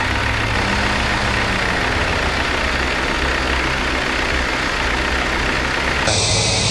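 Engine 1 of an airliner spools up in a multi-crew flight simulator game, a loud, dense, steady roar that fills the whole stretch, with an abrupt shift in tone near the end.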